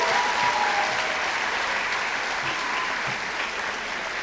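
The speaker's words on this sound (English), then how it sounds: "Why don't we give them a round of applause?" Graduation crowd at a high school ceremony claps loudly and steadily, a dense, sustained wash of applause from a large audience that eases slightly toward the end.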